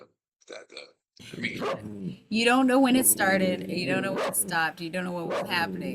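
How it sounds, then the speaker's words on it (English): A dog barks and yips in short bursts, first alone and then under steady talk from a man nearby. "And I'm sorry about my dog."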